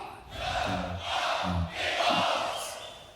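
Crowd at a beatbox battle shouting a call-and-response chant, loud bursts of massed voices repeating in rhythm.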